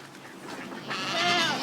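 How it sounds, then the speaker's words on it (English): On a homestead, a goat lets out a loud, wavering bleat near the end, close by, after a moment of quieter outdoor background. "You better catch your goat, buddy."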